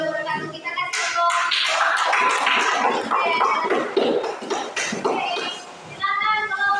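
A class claps after a presentation in a quick, dense burst of hand claps lasting several seconds, close and lively, with voices speaking briefly before and after.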